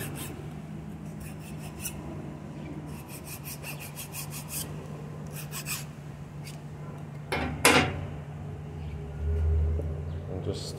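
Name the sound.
sharpening with a metal file to scrape off sticker glue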